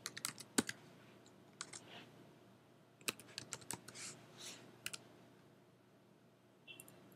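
Quiet bursts of keystrokes on a computer keyboard as words are entered into spreadsheet cells, with short clusters of clicks separated by brief pauses and no voices.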